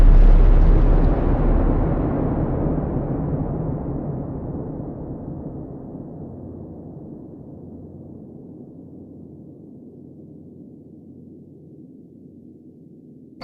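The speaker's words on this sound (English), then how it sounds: "they haven't used the bomb yet and are curious to see if it works, so they drop it on Japan" A huge atomic bomb explosion, the kind dropped on Japan, opens with a loud blast and then a long, deep rumble that slowly fades over more than ten seconds, with nothing else heard.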